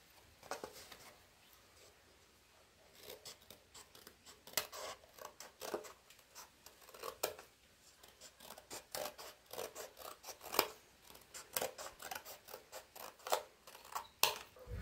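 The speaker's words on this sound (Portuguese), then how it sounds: "Depois é só cortar onde a gente passou o lápis" Scissors cutting paper strips from a roll along pencil lines, a quiet, close run of crisp snips that quickens into steady repeated cuts, with no talking.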